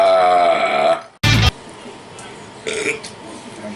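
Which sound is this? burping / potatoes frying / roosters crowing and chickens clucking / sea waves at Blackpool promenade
burping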